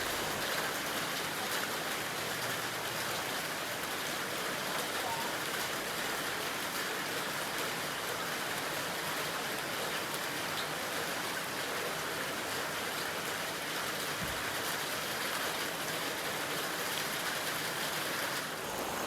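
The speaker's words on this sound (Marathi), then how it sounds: "हे बघा खूपच पाऊस पडतो इकडे" Heavy monsoon rain pours steadily in the Konkan region, a dense, unbroken hiss of falling water that stays loud and even throughout, with no voices.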